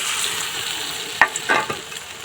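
Kulekhara leaf chop pakoras fry in hot oil with a steady sizzle, broken by a few sharp stirring clatters near the end, close and fairly loud with no voices.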